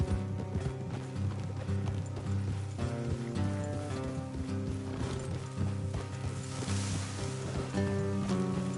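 Horses clip-clop along at a steady trot in the Red Dead Redemption 2 video game, the hoofbeats running under a dense, continuous bed of game music.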